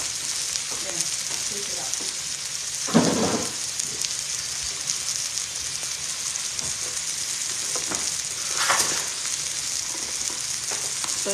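Steak frying under a covered pan gives a steady, close sizzle and crackle that runs throughout, with a brief louder clatter near the start and another later on. No voices.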